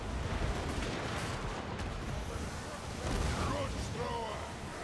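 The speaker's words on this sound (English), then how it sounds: "Oh no, the trebuchet isn't hitting our siege," Trebuchet and cannon fire in a Total War: Warhammer II siege battle: dense, continuous booming artillery and impacts fill the whole stretch, loud and rumbling, with a voice talking over the battle noise.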